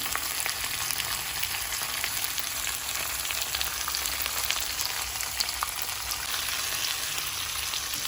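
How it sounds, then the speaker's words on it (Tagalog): Kabilyaw fish fries in hot oil in a pan, a steady dense sizzle with crackling pops running continuously at moderate loudness, with no voices. "Prito muna natin ating"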